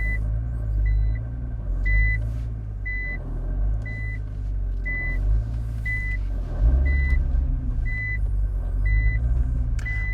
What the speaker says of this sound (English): the car beeps in reverse